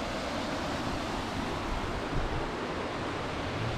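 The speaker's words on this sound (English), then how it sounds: "Passing this little waterfall on Usway Burn." Water from a small waterfall on the Usway Burn rushes in a steady, continuous hiss, moderately loud and unbroken, with no voices.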